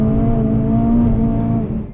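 A Peugeot 206 RC engine revs hard under acceleration, a loud, close, steady droning tone holding for about two seconds before easing slightly at the end.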